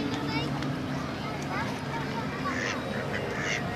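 Duck at Legoland Windsor's Miniland quacking a few times in short nasal bursts, close by, over an outdoor background of people talking.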